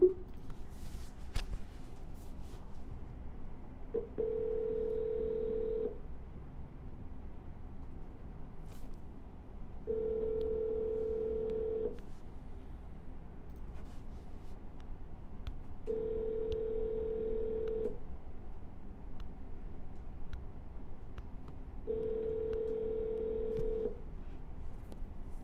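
Outgoing phone call ringback tone, four evenly spaced two-second rings with silent gaps between, heard faintly down a telephone line with no one speaking.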